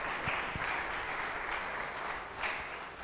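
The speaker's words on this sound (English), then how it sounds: "One more round of applause for chamber singers" Congregation at a university weekly chapel service applauds the chamber singers, an even, continuous wash of many hands clapping at moderate loudness, no voices over it.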